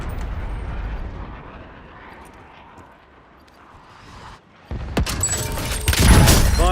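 Artillery strikes land in Call of Duty Warzone, a muffled rumbling barrage fading low before sharp, loud explosive blasts burst in near the end, heavy and close with crackling debris.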